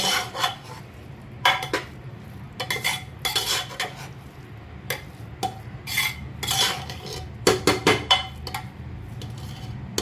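A metal spoon mixes cooked dal khichdi rice with coriander in a steel pot, making repeated scraping and clinking strokes in uneven bursts, close and fairly loud, with no talking.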